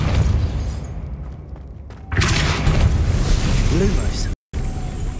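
A Depulso force spell cast in Hogwarts Legacy lands with a sudden whooshing blast about two seconds in, followed by a sustained loud rumble with a short gap near the end.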